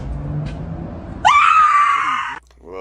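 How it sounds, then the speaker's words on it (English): A woman's loud, sustained scream erupts after a small party popper goes off, cutting in sharply over earlier low murmuring and holding for about a second before breaking off abruptly. "She just starts screaming whenever she heard that little pop."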